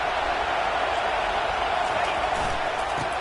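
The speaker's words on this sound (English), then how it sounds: "It is getting loud as this crowd tries to help its defense." Stadium crowd in the College Football 25 video game at Ohio State, a dense, steady roar of many voices holding loud throughout with a broadcast voice over it.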